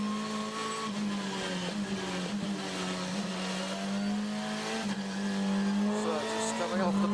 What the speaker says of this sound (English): let's have a listen to Rob Huff on the warm-up lap